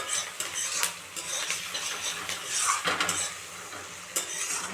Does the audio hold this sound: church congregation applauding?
no